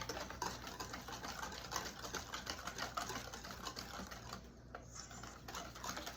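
A bright yellow boxed golden cake batter being whisked in a bowl, a steady fast rattling and ticking of wire against the bowl that carries on without a break and stays near and fairly quiet.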